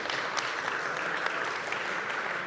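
Conference audience applauding at the close of a day of talks, a dense, even clapping from a crowd that holds steady for a couple of seconds.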